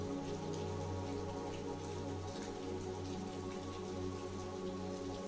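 Steady rain falls on city streets in Edinburgh, a soft continuous patter and hiss with no breaks, faint and even throughout.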